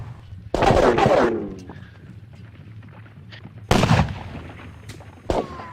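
Cannons fire canister in the Campaign: Waterloo video game at the Battle of Quatre Bras: two big booming blasts with rolling echoes, separated by a quieter lull with scattered crackles, then a shorter sharp shot at the end.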